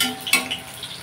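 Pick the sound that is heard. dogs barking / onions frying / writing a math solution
onions frying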